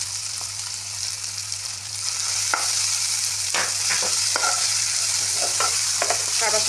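Tomato, salt and spices are stirred with dry fish in a frying pan, giving a steady sizzle under scattered scraping clicks of a spatula, close and fairly loud.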